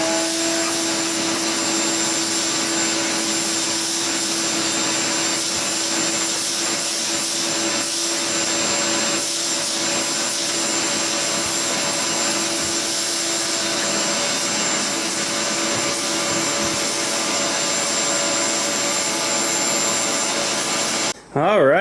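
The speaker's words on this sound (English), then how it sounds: "now we'll get the vacuum out and get this stuff cleared up" A vacuum cleaner runs steadily and loudly during a cleanup, a continuous whining roar with a stable high tone and a rougher rasping layer as the nozzle moves, then it cuts off abruptly at the end.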